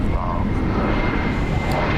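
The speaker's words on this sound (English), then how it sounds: "we're going to instead look at an Avianca flight coming in from San Salvador" An Avianca Airbus A320 comes in from San Salvador at Dallas Fort Worth, heard as a steady, moderately loud engine rumble and whoosh with no clear voices.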